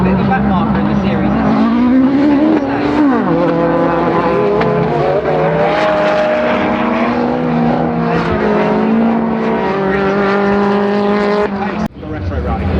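Retro RallyCross race cars at Silverstone braking hard into a turn and battling in a pack, engines roaring and revving with shifting pitch throughout, close and loud beneath continuous excited race commentary.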